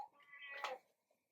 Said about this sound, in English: if you can hear my little putty cat in the background there